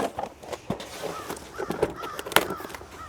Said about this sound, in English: There's crows laughing at us.